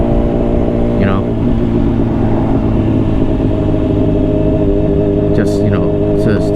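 A Honda CBR600RR sport bike's engine drones steadily while being ridden, with loud, continuous wind and road noise and a brief higher whine near the end.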